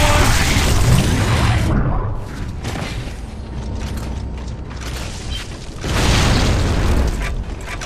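A frag grenade blast in the shooter game Gears of War: Judgment, a loud booming rumble at the start followed by quieter mechanical clatter and a second heavy burst near the end.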